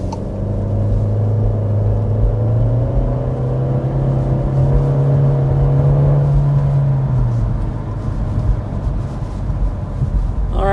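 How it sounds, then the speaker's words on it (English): A 2025 Volkswagen Jetta SE under hard acceleration, heard from inside as a steady loud drone whose engine tone climbs through a single long pull and then drops off near the end, with no talking. "we want to go ahead and start with a hard acceleration to show you what the powertrain is like"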